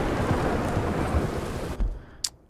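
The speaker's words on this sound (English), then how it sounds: "But this lightning storm is making it worth it." Rain pours and thunder rumbles during a thunderstorm in the video game Red Dead Redemption; the heavy rumble cuts off suddenly into quiet, followed by a faint sharp crack.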